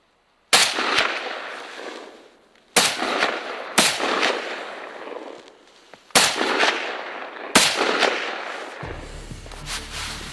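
Rifle shots ring out during a moose hunt, five sharp, loud cracks spaced a second or two apart, each followed by a rolling outdoor echo that decays before the next.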